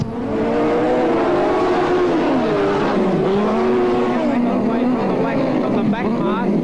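Speedway sidecar outfits race through turns 3 and 4 at Newcastle Motordrome in 1985, their engines a loud, continuous rising and falling roar that wails through the bends while a commentator talks over it.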